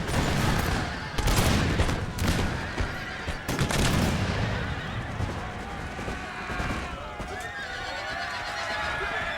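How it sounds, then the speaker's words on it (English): Infantry musket volleys crack in a video game battle of the American Revolution, several loud bursts in the first four seconds, then horses neigh and whinny with hoof clatter as the firing fades into a busy battlefield din. "I think it's this unit that actually does most of the firing here."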